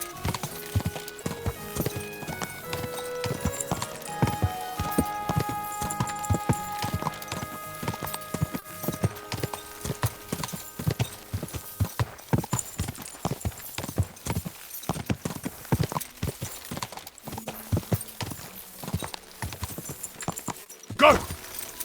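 Horse hooves clatter at a gallop in Kingdom Come: Deliverance II, a steady rapid clip-clop running throughout over music, with voices calling out at times.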